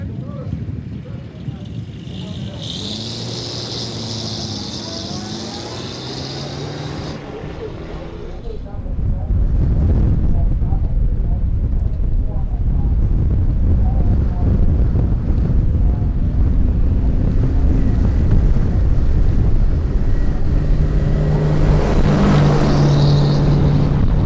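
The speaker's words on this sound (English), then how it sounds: "That's a noisy car." A loud old Duesenberg race car engine roars steadily for a long stretch at a speed exhibition, swelling louder partway through, with people talking over the noise.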